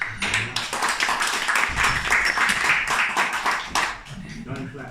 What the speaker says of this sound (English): Don't clap till you've heard